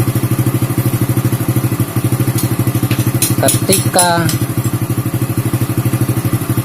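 An older Honda Supra motorcycle fitted with a Shogun CDI idles steadily with a rapid, even putter, close by, while a few clicks and a brief spoken word sound over it.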